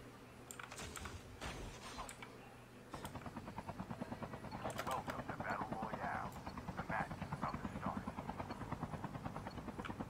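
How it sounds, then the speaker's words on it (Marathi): Rhythmic rotor chopping of a helicopter in the Call of Duty video game, steady and fairly quiet, mixed with keyboard tapping and people talking. "हेलिकॉप्टर चल रहेगा."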